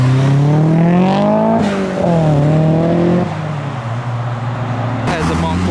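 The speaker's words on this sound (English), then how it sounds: "There's a Mark 1 MX-5." A Mark 1 Mazda MX-5 drives away from a car meet, its engine revving and rising in pitch up close, then dropping into a steady drone, with voices talking over it throughout.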